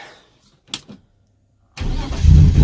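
A BMW E36 engine starting after sitting unused for a couple of months: a brief quiet, a couple of faint clicks, then the engine abruptly catches and settles into a loud, rough rumble alone.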